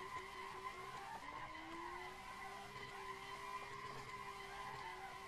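In Assetto Corsa, a Tofaş car's engine whines at steady high revs in third gear with a continuous tire screech as it drifts on a mountain road, sustained and fairly quiet throughout.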